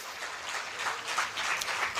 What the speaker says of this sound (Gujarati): એને પણ આપણે તાળીઓથી વધાવી જોઈએ